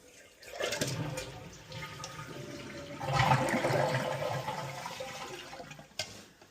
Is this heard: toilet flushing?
yes